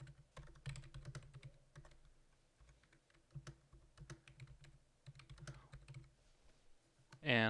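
Steady clatter of keys on a computer keyboard, quick irregular taps at moderate volume, ending with a brief louder burst.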